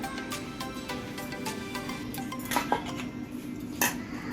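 Sattu kachori filling is mixed with lemon juice in a bowl: soft scraping and stirring with a few sharp clinks of a utensil against the bowl, close and fairly quiet.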